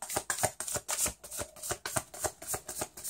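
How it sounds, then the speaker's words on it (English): Rapid riffling of a card deck, repeated crisp bursts in a steady rhythm, close up with no talking. "So I'm just shuffling the deck here."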